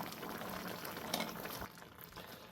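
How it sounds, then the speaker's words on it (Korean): Curry with curry powder simmers in a pot, a close, soft continuous bubbling with small pops and occasional gentle stirring, steady and moderately quiet throughout. "카레가루를 넣은 뒤에는 냄비에 눌러붙을 수 있기 때문에 조금씩 저어주면서 계속 끓여줍니다"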